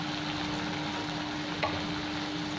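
Soft, steady sizzle of Kashmiri chilli powder and coriander powder frying in oil with tomato and ginger, a quiet continuous crackle with one brief clink near the middle, no voices.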